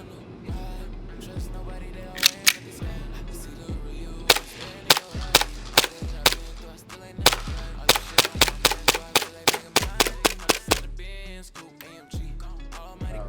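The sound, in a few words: stock Tokyo Marui Hi-Capa airsoft pistol shooting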